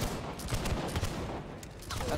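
A ragged musket volley in Holdfast: Nations at War, a Napoleonic battle game, crackling as a dense burst of overlapping shots that swells and falls over about two seconds, with no talk over it.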